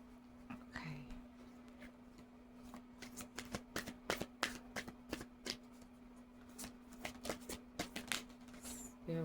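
An older oracle card deck is shuffled by hand in a string of crisp, close riffling snaps that grow busier toward the end, with a faint steady hum beneath.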